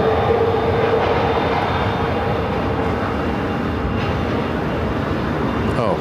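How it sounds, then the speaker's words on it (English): A Southwest Boeing 737 MAX 8 arriving from Denver on runway 26 at Phoenix, a loud, steady jet engine roar held throughout with a faint tonal whine and no talk. "next arrival on 26. Southwest Flight 452 coming in from Denver"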